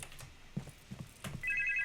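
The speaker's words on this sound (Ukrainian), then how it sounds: "Мені хтось дзвонить." An electronic phone ringtone in the Cheap Car Repair video game begins near the end with a repeating trilling tone, following a few soft mechanical clicks and thuds.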